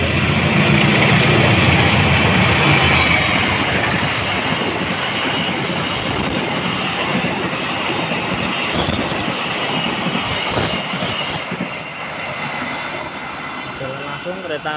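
Airlangga passenger train on the Pasar Senen–Surabaya Pasar Turi route passing through Gubug station in the evening, a loud sustained rumble of wagons and wheels with clattering rail noise that slowly fades.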